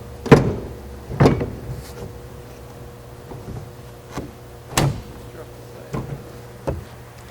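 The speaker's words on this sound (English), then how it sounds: "we need to gently close the tailgate, making sure we don't strike this side rails" Tailgate of a 2013 Ford F-150 being closed during a tonneau cover fitting, a few firm metallic thuds and clunks spaced apart with quieter handling knocks between them.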